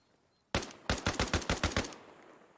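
Rapid gunfire in DayZ aimed at a vehicle's tires, a single loud shot followed by a quick burst of about eight sharp reports, close and alone.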